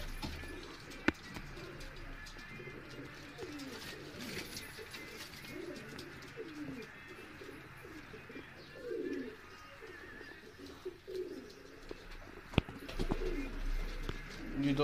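Pigeons in a home breeding setup coo repeatedly in soft, throaty rolling calls, close by and steady over a background hum, with a few sharp clicks and faint talking.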